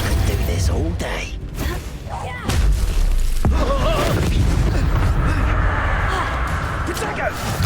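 Explosive spells cast in Hogwarts Legacy, with loud booming blasts, whooshes and crashing impacts landing close together and one big burst midway, over steady game noise and intermittent speech.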